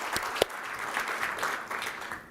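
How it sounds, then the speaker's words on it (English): Steady applause from an audience at a fireside chat event, dense clapping at moderate volume with no voices over it. "A big round of applause for you and for John McCain."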